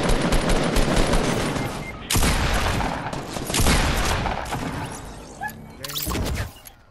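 Dense Fortnite gunfire: rapid bursts and overlapping shots fire nearly nonstop at close range, fading toward the end, with a player's voice partly mixed in.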